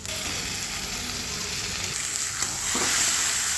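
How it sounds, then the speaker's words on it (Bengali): Meat fries with onion in a pan, sizzling steadily while being stirred, with occasional scraping strokes and the hiss rising slightly toward the end. "পেঁয়াজটা আগে মাংসটা ভালো করে ভেজে নেবো"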